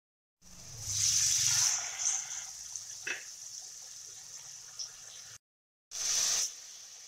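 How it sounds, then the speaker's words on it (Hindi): Water pours into a pan of green chillies and curry leaves in a short splashing stream, pauses, then a brief second pour follows, with faint clinks in between. "अब पानी ऐड कर देंगे"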